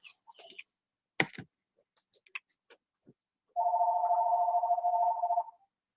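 A phone call tone sounds as a steady electronic beep lasting about two seconds, preceded by a few faint clicks and handling taps in a quiet room.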